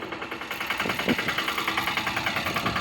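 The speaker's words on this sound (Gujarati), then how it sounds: "એ જાય છે આગળ ટ્રેક્ટર લઈને જો વાવેતર કરે છે" A tractor engine chugs in a steady pulsing rhythm, close and loud, while sowing chickpeas in a field.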